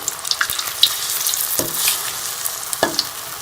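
Peas potato cutlets fry in oil with a steady sizzle that crackles up from time to time, along with a few clinks and scrapes of a utensil turning them.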